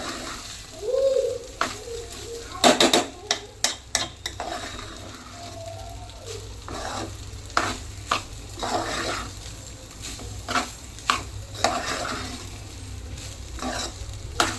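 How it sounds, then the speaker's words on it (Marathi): Cooked jeera rice with cumin being stirred in a pot, with repeated scraping and clinking strokes in an irregular rhythm, close and fairly clear, some louder clatters mixed in. "पूर्ण असं मिक्स करून घ्यायचं, जिरं सगळीकडे लागलं पाहिजे"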